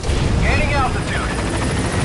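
Pequod, the helicopter in Metal Gear Solid V: The Phantom Pain, gaining altitude, a loud, dense rotor roar with a rising whine, heard close under a radio voice.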